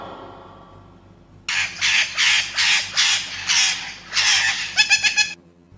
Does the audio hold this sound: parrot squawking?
yes